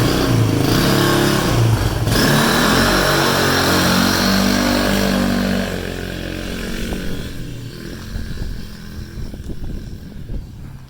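A Polaris RZR 170 side-by-side buzzes loudly at close range as its small engine revs, then the drone fades and drops away as it drives off.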